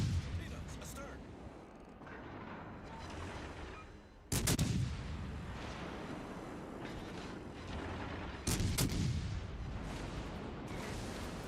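Warship gunfire in the naval combat game World of Warships Legends: two heavy booming salvos stand out above a constant loud rumble of battle noise, with speech-like game audio blended in.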